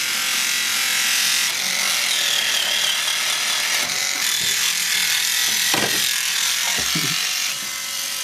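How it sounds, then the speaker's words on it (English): Toothbrush scrubbing the playfield of an Indy 500 pinball machine, a steady close buzzing and brushing rasp that continues throughout with a few light knocks, no voices. "I've got my special Crest Indianapolis racing cleaning toothbrush"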